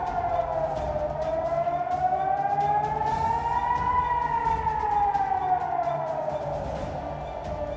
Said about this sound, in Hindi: राजधानी कीव में एक बार फिर हवाई हमले के सायरन बज उठे